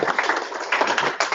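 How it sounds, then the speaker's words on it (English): An audience applauding a speaker at a First Fridays event at AFWERX, a brief burst of close, fast, uneven claps. "So I'll give a round of applause to George"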